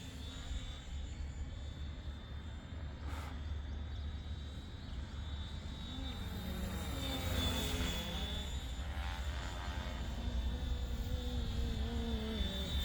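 A model aircraft with an ATI motor flies overhead, its faint, steady whine shifting in pitch as it passes at a distance over a low, constant background rumble.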